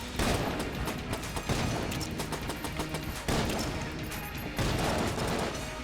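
Rapid video-game gunfire from Enter the Gungeon, dense bursts of shots and impacts rolling continuously and loudly over about six seconds with no talk.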